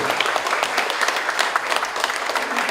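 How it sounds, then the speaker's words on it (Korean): Crowd applause fills a book launch event for a full-length novel, dense steady clapping from many hands throughout, fairly loud and without pause. "박수."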